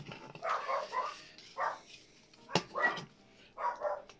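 Two dogs bark indoors at a distance, a few scattered short barks and yips in irregular bursts with quiet gaps between them.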